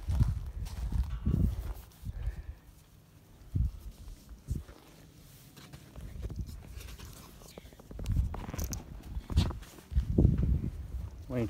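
A mustang horse walks on a ranch, its hooves giving soft, irregular clip-clops close by, with a person talking quietly in between.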